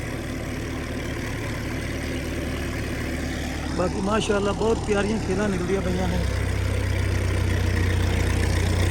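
A large tractor works a maize field on a farm, its engine a steady low drone throughout that rises in pitch and loudness near the end, with someone talking over it partway through.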